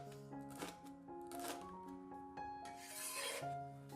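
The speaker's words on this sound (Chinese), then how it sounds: "准备几个小米椒，给它切成小圆圈" Knife cutting small bird's eye chili peppers into thin rings on a board, soft quick taps and rubbing strokes in a steady run, close and quiet over faint background music.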